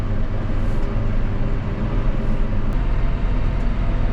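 A Kioti HX1151 tractor engine idles along at under 1500 RPM, heard from inside the cab as a steady low muffled drone with a rumbling hum and little variation.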